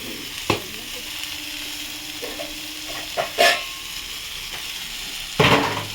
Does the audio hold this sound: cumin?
yes